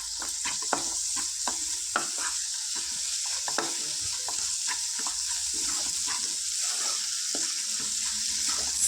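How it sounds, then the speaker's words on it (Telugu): Ginger garlic paste and turmeric frying in a pan for capsicum curry, a steady sizzle with intermittent stirring scrapes and clinks throughout, close and moderately loud with no talking. "పసుపు వేసుకుందాం ఫ్రెండ్స్ ఒక హాఫ్ స్పూన్ అల్లం వెల్లుల్లి పేస్ట్ వేసుకొని ఫ్రై చేసుకుందాం"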